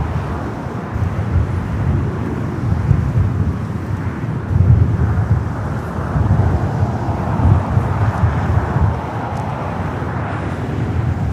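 A Virgin Airbus A350-1000 airliner departs LAX for London Heathrow, its broad low jet roar sustained and fairly distant, mixed with wind buffeting on the microphone.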